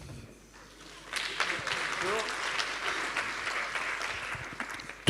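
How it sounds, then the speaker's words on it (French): An audience breaks into applause, clapping swelling after a quiet start and holding steady for several seconds in a hall, with faint voices beneath. "vous allez l'applaudir tout de suite, lui."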